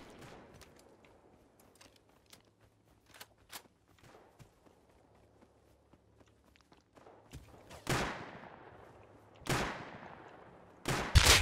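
Gunfire in the video game Rust during a riverside fight: scattered light clicks and steps lead to three loud, sharp shots with ringing tails, spaced a second or two apart and growing closer and louder toward the end.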